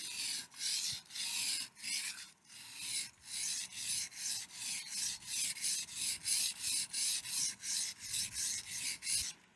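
A knife blade is drawn repeatedly across a whetstone in steady, even back-and-forth strokes, a close, dry rasp that swells and fades with each pass and carries on alone without talk.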